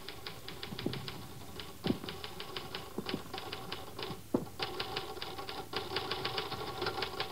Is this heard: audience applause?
no